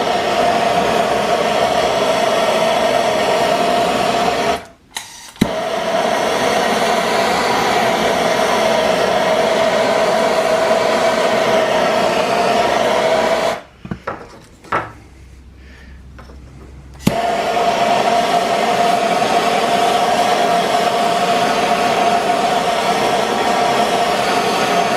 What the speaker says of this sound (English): So let's get our old trusty propane torch out. I'm going to cook this thing a little bit.